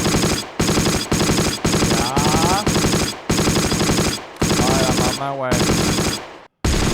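Rapid bursts of automatic gunfire and shelling in the WW2 strategy game Close Combat, loud repeated volleys separated by short gaps, with a brief voice partway through.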